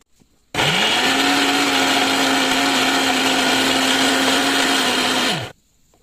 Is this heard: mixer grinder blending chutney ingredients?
yes